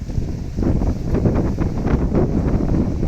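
Strong wind buffets the microphone in a continuous low rumble, gusting louder after the first half second and holding steady throughout.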